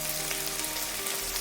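Chicken sizzles and fries in a pan with a dense, steady crackle throughout, close and loud, with no talking.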